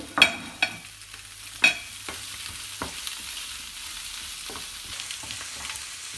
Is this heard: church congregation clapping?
no